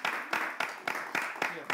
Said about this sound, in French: On peut applaudir pour qu'elles arrivent